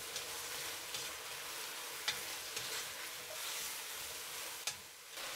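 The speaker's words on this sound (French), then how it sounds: "je mets le bœuf, je remue pendant 20 secondes." Steady sizzling of beef stir-frying over medium heat in a pan, with occasional sharp clinks and scrapes of a utensil stirring, continuous and close.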